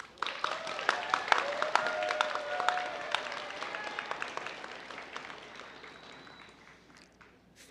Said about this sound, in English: let's give your supporters and your cheerleaders a big round of applause